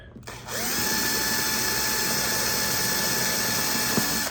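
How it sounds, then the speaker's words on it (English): A power drill whirs steadily at high speed through two layers of a car headlight housing for several seconds after a short start-up, with a faint mechanical rattle and a brief knock near the end. "And you can see it drill through 2 layers."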